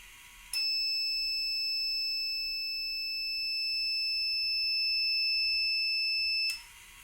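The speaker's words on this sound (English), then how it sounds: "the wheel will stop rotating and the buzzer will start buzzing" A single high-pitched electronic buzzer on eye-blink-sensor anti-sleep glasses sounds continuously for about six seconds, then cuts off abruptly.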